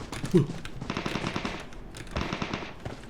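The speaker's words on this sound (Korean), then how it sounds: "총소리는 AI가 아니야 이거 사람이다" Automatic gunfire in the PUBG Mobile battle royale game, a loud burst early on followed by repeated rapid volleys of shots at moderate distance, with faint game ambience in between.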